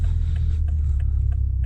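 Inside a Toyota GR Supra 2.0 fitted with an aftermarket FI exhaust, a loud, steady low rumble fills the cabin, broken by a few faint ticking pops.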